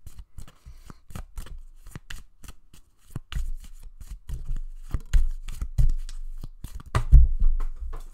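Tarot cards being shuffled by hand in a series of crisp riffling flicks and soft slaps, fairly close and steady, growing a little fuller toward the end, with no talking.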